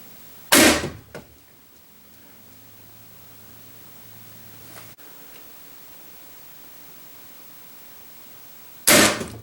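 A Ravin R500 crossbow fires through a chronograph: a sharp, loud snap and thump near the start, a faint hum afterward, then a second sharp burst at the end.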